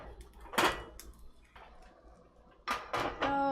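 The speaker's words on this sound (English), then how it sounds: "So I'm gonna just shake this out over the sink real quick." A frying pan used for barley cakes is shaken out over a kitchen sink, giving a few sharp metallic clanks and scrapes, fairly close, with quiet gaps between them and a louder clatter near the end.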